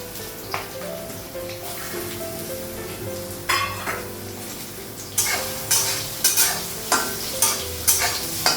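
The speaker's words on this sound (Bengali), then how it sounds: "চাউমিনটা ভাজা হয়ে গেছে" Chowmein frying and being stirred in a home kitchen pan with green and dried chillies, a steady sizzle under repeated scraping strokes of a spoon that grow louder and more rhythmic in the second half.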